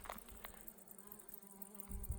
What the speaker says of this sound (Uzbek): arilarimiz ishlab yotibdi mana